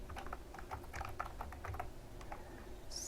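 Quick keystrokes on a computer keyboard as a short terminal command is typed, a close, quiet run of light clicks in an otherwise still room.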